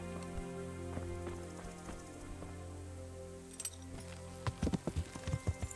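A horse's hooves clip-clop in the medieval game Kingdom Come: Deliverance. After a quiet stretch, a quick run of distinct hoofbeats rises near the end and stays fairly soft.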